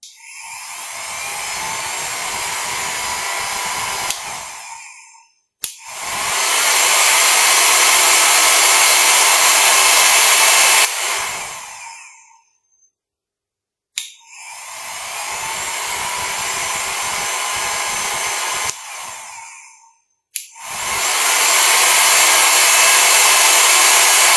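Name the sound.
hair and beard dryer running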